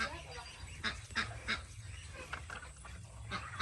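Ducks and other fowl at a rural Lao or Thai home give several short, loud honking quacks at irregular intervals, over a low steady background hum, with faint voices nearby.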